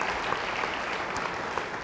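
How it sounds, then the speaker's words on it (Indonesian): Congregation applause at a church service, a dense steady wash of many hands clapping together, moderately loud and even throughout with no speech over it. "Beri tepuk tangan bagi Tuhan."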